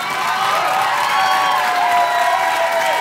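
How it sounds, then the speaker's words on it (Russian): Concert audience applauding and cheering after a performer finishes a poem, a dense, steady wash of clapping from a crowd that stays loud through the whole stretch. "Аплодисмент!"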